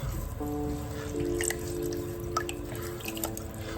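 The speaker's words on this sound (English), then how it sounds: "Let me just wash my hands." Hands being washed in water beside a pottery wheel during the throwing of a large 2.5 kg clay pitcher: close, irregular drips and trickling splashes over a steady mechanical hum.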